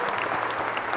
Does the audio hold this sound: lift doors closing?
no